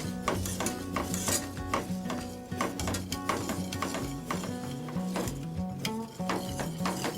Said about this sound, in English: lightly stir till it gets a little bit thick